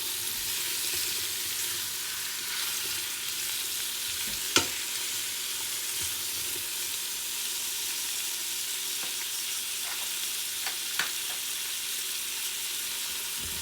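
Vegetables for habanero salsa cook in a pan, a steady close sizzle running throughout with a few sharp clinks and stirring knocks scattered across it.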